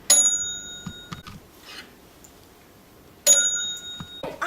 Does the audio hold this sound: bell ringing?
yes